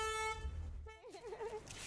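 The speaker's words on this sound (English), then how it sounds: "the honking of the horn signals it" A car horn honks loudly with steady tones near the start, followed by a warbling wavering horn-like tone, out on a Nigerian street on a Saturday morning as a mobile library arrives.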